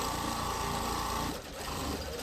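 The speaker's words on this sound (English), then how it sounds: "I'm gonna sew a bottom on this because I need a straight line" A sewing machine stitches a bottom seam, a fast steady mechanical whir with a brief dip in the middle before resuming, close and continuous.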